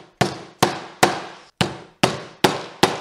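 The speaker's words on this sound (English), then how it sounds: "before you start hammering these in" Parts being hammered into the mount holes of a motorcycle luggage rack on a dual-sport bike: seven sharp, loud, evenly spaced hammer strikes about half a second apart, each with a short ringing decay, and no talking.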